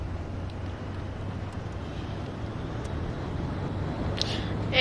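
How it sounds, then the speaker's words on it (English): Wind in the FSX flight simulator around a Maule light aircraft gives a steady low rumbling whoosh, fairly faint and constant, swelling slightly toward the end, with no talk. "it's pretty windy in the game right now"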